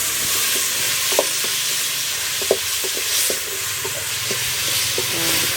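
Traditional African food fries in a pot for a family dinner, with a continuous loud sizzle and steam hiss and occasional scraping clinks of a utensil stirring, close up and without talking.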